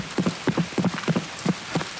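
Rain in the Escape From Tarkov shooter, a steady patter with repeated dull thudding hits in an uneven rhythm, fairly loud and with no voices.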